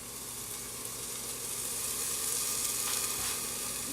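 Orange juice squeezed over rice frying with ginger and garlic in a hot pan for chicken and shrimp chow mein, giving a steady close sizzle that swells slightly midway, with no talk.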